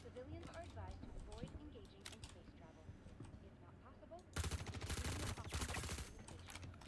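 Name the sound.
gunfire in the video game Star Citizen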